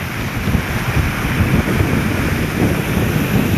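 A short burst of stormy surf: waves roar steadily under strong wind gusts that buffet the microphone, loud and unbroken.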